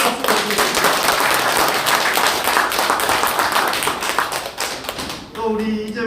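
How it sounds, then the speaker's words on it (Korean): A room of party members at a Democratic Party Yangcheon-eul core members' training session claps loudly and steadily, a dense close burst of applause that thins out near the end. "크게 한번 박수를 드립니다"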